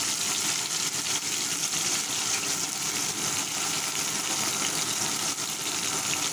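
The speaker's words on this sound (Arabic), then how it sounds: "التومه هتبتدي تصفر اهو، هحط لها الخل، وبعدين هصب عليها عصير الطماطم" Tomato juice poured onto garlic frying with vinegar on a kerosene stove, a steady bright hiss and sizzle of liquid hitting hot oil, close and continuous.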